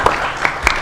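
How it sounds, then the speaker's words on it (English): Audience applause at a technology conference session, a brief burst of clapping with a few sharp claps standing out, fairly close and steady for under a second. "let's have a round of applause now"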